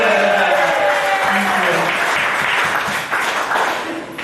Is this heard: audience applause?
yes